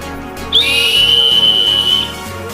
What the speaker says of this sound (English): Last but not least, we have the emergency whistle. So simple stainless steel, and you just blow through this end here.